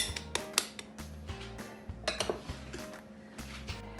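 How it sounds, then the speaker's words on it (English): A spoon working room-temperature butter into sugar in a bowl for butternut squash cookies, with repeated light clinks and scrapes of the spoon against the bowl at an uneven rhythm, close and quiet. "then we're going to just with a spoon soften that in with the sugar"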